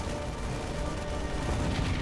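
Dense, continuous gunfire in StarCraft Evolution as a Terran barracks comes under attack, a loud unbroken rattle of shots and impacts filling the whole stretch with no pauses.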